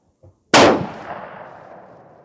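A single loud, close rifle shot from a Tikka T3 CTR at a shooting range, a sharp crack followed by a long rolling echo decaying over about two seconds, preceded by a faint brief knock.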